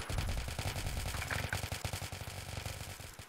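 Rapid automatic gunfire from a team shooter video game, a fast regular stream of shots that starts loud and slowly tapers off over a few seconds, with no talking.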